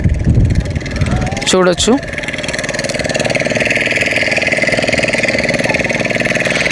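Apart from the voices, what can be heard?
motorboat passing on backwaters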